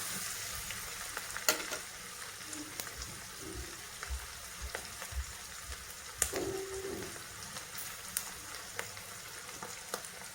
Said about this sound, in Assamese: পিঁয়াজ, পনীৰ, কেঁচা জলকীয়া একেলগে ভাজি আছোঁ।